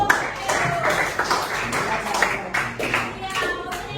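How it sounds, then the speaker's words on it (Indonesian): Children in a classroom clap their hands in a quick, fairly rhythmic burst of individual claps, with young voices talking and calling over them. "Mereka harus tepuk."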